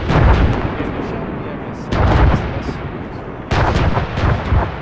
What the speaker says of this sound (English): I hear mortars firing!